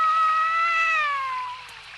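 A cat in a Tom Sawyer cartoon scene lets out one long, drawn-out meow that slowly falls in pitch, heard clearly and alone at close range.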